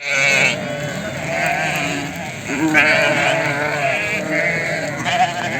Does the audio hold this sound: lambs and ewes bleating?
yes